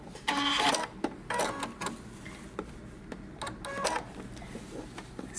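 A home sewing machine stitching a Simplicity 8611 romper or dress, with short bursts of rapid mechanical whirring and clicking separated by brief pauses as it starts, backstitches and restarts, close and moderately loud.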